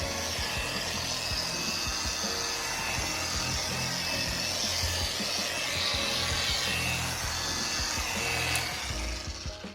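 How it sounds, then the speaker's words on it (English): A rotary polisher works compound across a car headlight on a black Honda CR-V, a continuous close whirring and rubbing drone that holds steady and then eases off at the end. "now we're going to polish out all the haziness to the headlight"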